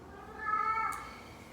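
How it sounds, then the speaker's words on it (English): A 20-year-old cat meows for attention, a single drawn-out tonal meow in the background of a quiet room, fairly faint. "If you hear some crazy meowing in the background, that's my 20-year-old kitty who likes to have attention"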